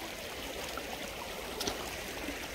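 An unfrozen stream runs through snowy ground with a steady, close rushing and trickling of flowing water, broken only by a faint brief knock partway through.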